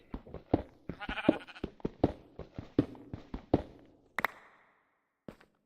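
A series of short sheep bleats from a video game in quick succession, each followed by another, with a louder sharp burst near the end and a brief final call.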